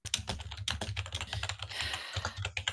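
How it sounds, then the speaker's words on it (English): Rapid, close clattering of computer keyboard keys with an uneven, busy rhythm, alone without voices. "Like I hear typing."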